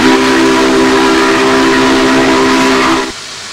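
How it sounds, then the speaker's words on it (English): A loud steam whistle from the 844 steam locomotive in Train Simulator 2020 blows one long, steady shriek with a hissing edge, cutting off sharply near the end, leaving quieter hiss. "let's have a quick listen of the whistle."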